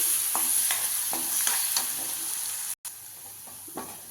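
Ginger garlic paste frying in hot oil for a prawn gravy, giving a steady broadband sizzle with a few scraping stirs and one brief cut near the middle, with no talking.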